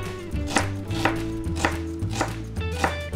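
A knife slicing a shallot thinly on a board, about six evenly spaced crisp chops over a faint background hum.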